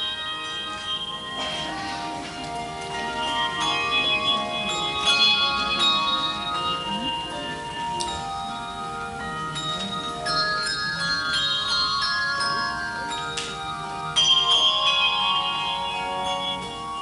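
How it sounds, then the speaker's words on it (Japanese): A college handbell choir rings a steady, continuous piece of clear, sustained bell tones in a hall, overlapping chimes with occasional brighter strikes, with no voices. "泉短期大学ハンドベルクワイアの演奏で開幕。"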